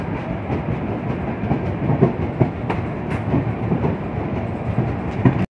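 Deccan Express passenger train pulling out of Shivajinagar station in Pune, heard from inside the carriage as a steady rumble with rhythmic clickety-clack of wheels over rail joints, continuous and fairly loud throughout.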